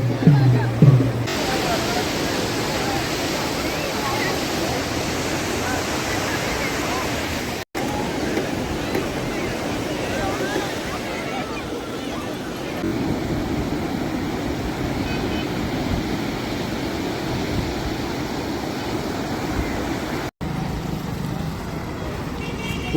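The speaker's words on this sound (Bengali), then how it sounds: "আর এই দেখুন সমুদ্রের ঢেউটা দেখুন।" Sea waves breaking on the beach at Puri, a steady broadband roar of surf lasting throughout, close and fairly loud, with a voice speaking over it at times.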